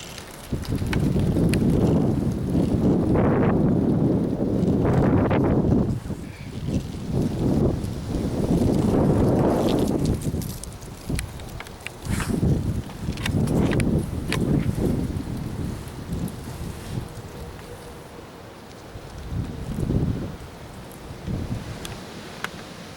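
Strong gusting wind roars through trees during a windstorm of around 50 mph, loud and surging in long swells with brief lulls, close and unbroken throughout.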